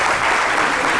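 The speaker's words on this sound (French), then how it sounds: "Ça s'applaudit quand même, franchement." Brief burst of audience applause at a fashion and beauty event, a dense wash of clapping filling the whole moment at steady loudness.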